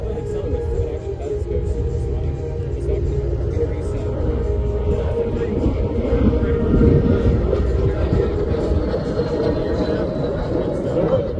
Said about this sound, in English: Ladies and gentlemen, diving in from the left